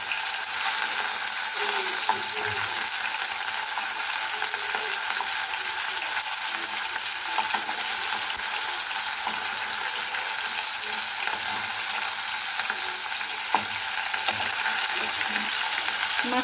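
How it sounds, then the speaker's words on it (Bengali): Bele fish fries crisp in hot oil, making a loud, even sizzle and crackle that runs steadily throughout with occasional small clicks, and no voices. "বাইলা মাছটা আমি এরকম মচমচা করে ভেজে নিয়েছি"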